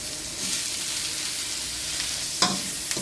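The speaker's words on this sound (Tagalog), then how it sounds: "Gisa-gisa lang po yung bawang, sibuyas at karne" Garlic, onion and browned meat sizzle and get stirred in a pan for pakbet, a steady frying hiss with a couple of sharper spatula scrapes near the end, no one talking.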